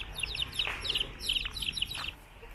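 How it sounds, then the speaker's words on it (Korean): Chickens on a farm in Cambodia give off soft clucks and chirpy calls in several short bursts, moderately near against quiet outdoor background. "닭이 좀 많습니다."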